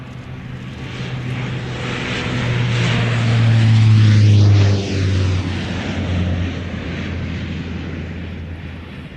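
Kawasaki C-2 military transport of the Japanese Air Force passing at an air show, a loud jet roar that swells to a peak, then recedes with a shifting, sweeping tone.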